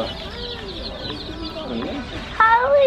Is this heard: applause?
no